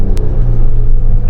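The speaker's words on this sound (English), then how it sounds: "now I'm actually in sport mode in 1st gear, and I'm just going to do a little launch" A 2019 Ford Explorer Sport in sport mode and first gear launches from a stop, its engine a loud, close, steady low rumble with road noise and no talking.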